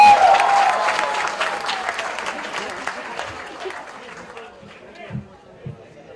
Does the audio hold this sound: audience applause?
yes